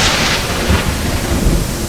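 Thunder rolls over heavy steady rain. The rain makes a loud, dense hiss throughout and low booming swells rise around the middle and near the end, with no voices.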